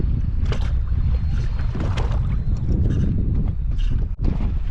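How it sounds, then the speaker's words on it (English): A noisy fishing reel with a worn roller bearing cranks steadily with a gritty, rattling mechanical whir and uneven clicks, close up, continuing without pause. "I apologize in advance for how noisy this reel is."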